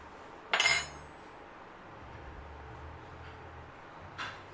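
Cutlery scoops boiled egg yolks into a bowl: one sharp metallic clink near the start, then quiet, then a fainter second tap.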